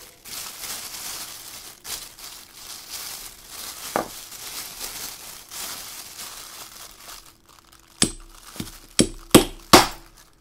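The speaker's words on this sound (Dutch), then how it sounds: "Die klap, dat was het geluid van het vacuüm dat in de buis zit, wat zich ineens vulde met lucht." A 6V6GT vacuum tube's glass envelope being pried open with a hand tool cracks sharply, followed by a quick burst of clinking glass snaps and a faint rush of air, preceded by quieter crinkling and scraping.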